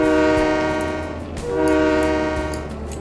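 A train horn sounds at crossing gates in Train Mechanic Simulator 2017, two long chord blasts back to back over a low rumbling engine, loud and close.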